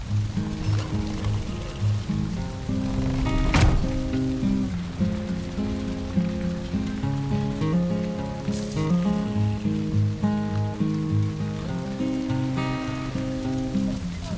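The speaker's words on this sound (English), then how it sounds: "Looks like the rain's back," Steady rain in the game Valheim patters and hisses across a surface, dense and continuous, with a soft melodic tone drifting beneath it and a single sharp knock partway through.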